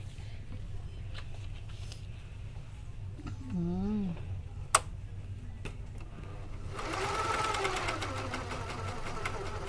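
A Semco 858 cover stitch sewing machine runs steadily with a low motor hum throughout, picking up a louder, busier whirring toward the end; a voice speaks briefly partway through.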